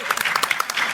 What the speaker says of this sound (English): Round of applause, Rock Band 4.